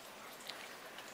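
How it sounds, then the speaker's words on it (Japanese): Faint, steady rain falls outdoors with a soft hiss and scattered light drops, and no voices over it. "雨降ってるね。"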